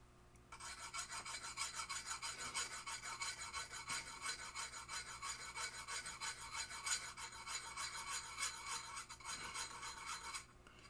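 Close, steady rasping strokes of a file putting a slight bevel onto the edges of pinball plungers, a continuous scratchy rhythm with faint pauses, no talking.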